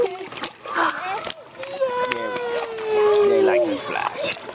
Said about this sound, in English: They like the splash